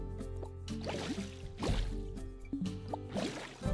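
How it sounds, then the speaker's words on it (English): Water being removed with the terrain editor in Planet Coaster gives a game sound of liquid draining and gurgling, with repeated drips and sloshy pops over a steady low hum. "let's get rid of the water by right-clicking"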